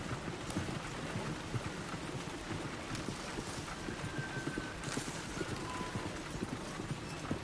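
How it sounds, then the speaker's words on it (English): Horse hooves clip-clop at a steady trot in Red Dead Redemption 2, a continuous rhythmic clatter over a rough road, with faint creaks and background noise. "Look where you want to go and the horse will follow."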